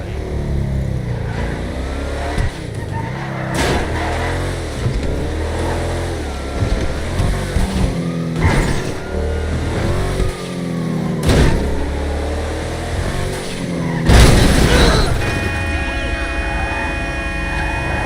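A truck's engine in a video game revs and shifts repeatedly, with rising and falling pitch sweeps. It is loud and close, with brief clunks between the revs and a few sharp bangs near the end.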